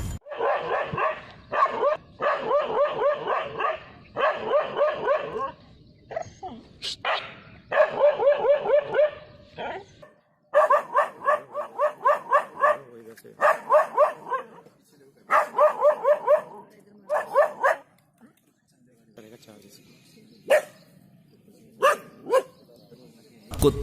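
Dogs bark in repeated bursts of loud, fast barks, with yips and whimpers in between, while fighting off a leopard in a forest. A mature dog and a puppy are both involved.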